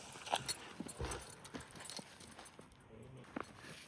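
An Oldenburg horse about 1.80 m tall walks on hard ground, its hooves clip-clopping in an irregular rhythm at close range, with light background noise between the steps.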